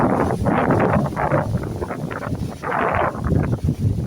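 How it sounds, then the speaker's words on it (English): Outdoor wind buffets the microphone in strong, rumbling gusts, swelling and dropping in uneven waves with no speech over it. "Just waiting for the wind to calm a little bit before I continue."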